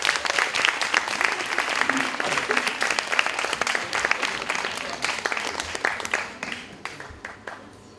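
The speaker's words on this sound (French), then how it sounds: "Sous vos applaudissements." An audience at an evening awards event applauds winners on stage with close, crisp clapping and a few voices, fading gradually into scattered claps near the end.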